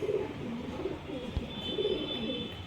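Pigeons from a flock of breeding racing birds cooing softly in low, repeated throaty rolls, close by, with faint background noise and one brief knock.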